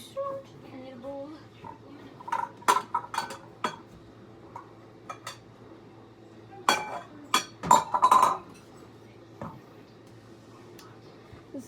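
A mixing bowl is set down and handled in a home kitchen while muffins are prepared, giving a few sharp clinks and knocks in two clusters against a quiet background, with faint talk.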